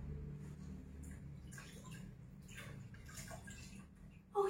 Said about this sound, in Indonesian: saya mencuci tangan terlebih dahulu ya